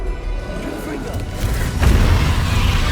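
A Confringo blasting spell in Hogwarts Legacy bursts in a loud, booming explosion over steady roaring battle noise, with a voice shouting over it.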